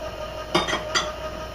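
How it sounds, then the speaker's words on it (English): A spoon knocks against a bowl as cornstarch is stirred into dry cookie ingredients, giving two distinct clinks with light scraping in a quiet room. "I'm just going to start just stirring that together"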